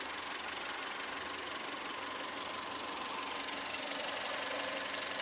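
A Volkswagen Polo liftback's naturally aspirated 1.6-litre petrol four-cylinder, 110 hp, idles under an open bonnet as a steady, even mechanical hum with fine ticking, close and unbroken, with no talk.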